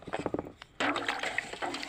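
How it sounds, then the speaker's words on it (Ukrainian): Water pours into a bucket with a steady, close rush that begins abruptly partway through, after a few short splashy bursts, to dissolve salt for pickled tomatoes. "я зараз заливаю відро з водою"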